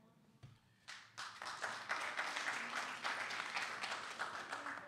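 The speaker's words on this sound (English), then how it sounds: "if you do hear applause in the room, it is not from the working press" Applause rises from a small luncheon crowd at the National Press Club, a brief tap, then a swell of clapping that holds steady and fairly close, with no talking over it.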